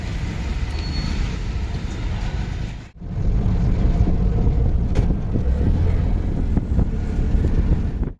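Auto rickshaw ride from Panvel station, a steady loud engine and road rumble carrying on throughout with a brief drop near the middle, no talking.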